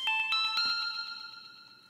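A bright synth tone run through a Valhalla Supermassive 16th-note delay, opening with a few quick plucked notes whose repeats ring out in a rapid, evenly spaced pattern and gradually fade, alone with no voices.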